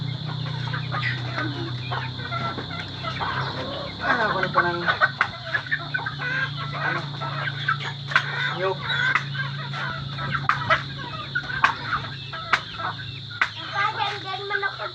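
Chickens cluck and gobble steadily nearby, with a few short spoken words mixed in.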